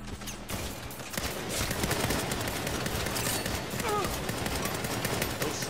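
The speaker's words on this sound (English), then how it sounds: "Snipers are pinning us down" Sniper gunfire in the Saints Row video game, a fairly quiet stream of repeated shots and rattling bursts layered over a dense game soundscape, steady across the clip.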